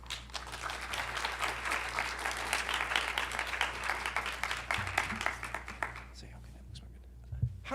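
A lecture audience welcomes the speaker with sustained, dense applause that fills several seconds and then thins out to a few scattered claps before the room goes quiet.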